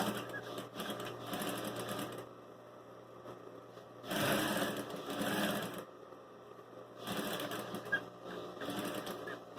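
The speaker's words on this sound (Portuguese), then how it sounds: "vamos costurar bem na beiradinha do pé da máquina" A sewing machine runs along the edge of a piece of denim in three separate bursts of fast, close stitching, with quieter gaps between them.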